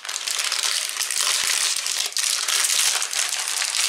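A package of orange-flavored cookies is torn open, giving a loud, close crinkling and crushing of plastic wrapper that runs continuously for several seconds.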